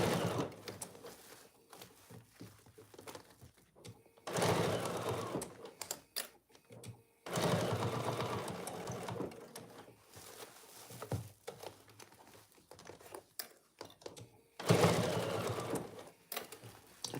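A domestic sewing machine stitches oven mitts in steady whirring runs of rapid needle chatter, stopping and starting several times with brief quiet gaps and small mechanical clicks between runs, close up and alone.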